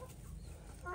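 Chickens clucking softly in a garden as they scratch through raked leaves and soil being made into compost, a short, quiet burst of low clucks close by.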